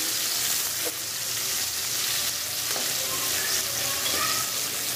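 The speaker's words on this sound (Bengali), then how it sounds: "পেঁয়াজ আর আলু দিয়ে দিচ্ছি, একটু ভেজে নিই।" Onion and potato fry in oil in a pan for chicken bhuna, giving a steady, fairly quiet sizzle with a few soft stirring knocks and no voices.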